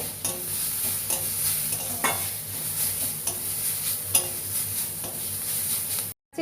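A spoon scrapes and stirs turmeric and ginger-chilli paste frying in oil in a pan for a Bengali puti fish curry, with repeated rhythmic scraping strokes over a constant close sizzle, no talk.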